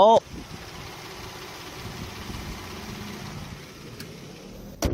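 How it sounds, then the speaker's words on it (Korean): A 2022 Hyundai Grandeur IG Le Blanc engine idling quietly and steadily with the bonnet open, a low even hum with brief clicks at the start and end. "지금 바로 엔진 소리 한번 자세하게 들려드릴게요."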